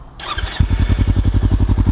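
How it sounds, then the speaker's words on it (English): A Kawasaki Ninja 300 fitted with a Yoshimura R-77 full exhaust cranks with a brief whirring starter, then fires and settles into a loud, close, evenly pulsing idle. "let's start it up again without too many neighbors around."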